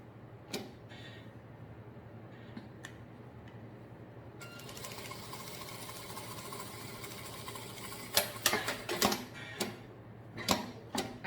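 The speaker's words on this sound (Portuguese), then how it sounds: "vou passar uma costura bem aqui, encostando na cremalheira do zíper" A sewing machine stitches fabric along the teeth of a zipper while a baby document holder is being made, giving a steady close whirring hum with light ticking that grows into denser clattering bursts near the end, with no talk.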